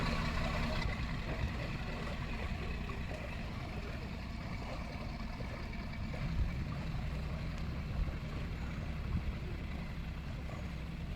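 A boat's engine rumbles steadily at close range, a continuous low drone with faint mechanical noise, and no voices over it.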